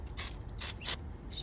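WD-40 penetrating lubricant sprayed onto rusty engine housings and irons in three short hissing bursts, close and fairly soft over a low background hum.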